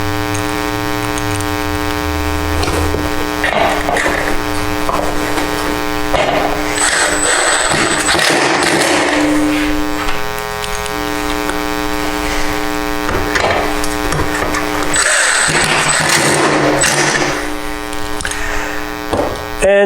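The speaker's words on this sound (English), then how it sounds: "And now I'm going to put in these middle screws." A power driver whines and buzzes loudly as screws are driven into the table mounting feet of a Sienci Labs LongMill 48x30 MK2 CNC machine, with steady motor drone and bursts of higher-pitched strain throughout.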